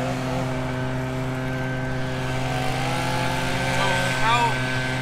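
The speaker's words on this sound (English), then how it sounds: "the cutting heads will reverse at the max RPM of the unit" A robot lawn mower's cutting heads spinning in reverse at maximum RPM while the unit charges, a steady droning motor hum with layered tones and a slight rise near the end, heard close.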